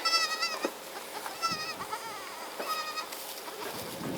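Kiko goat kids bleat repeatedly at close range on a homestead, their high wavering cries overlapping in quick succession.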